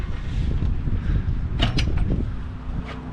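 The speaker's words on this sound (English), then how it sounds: "unlock the door here" The cab door of a JCB 417 wheel loader being unlocked and opened: a metallic click and latch creak over a loud, steady low rumble, close to the listener.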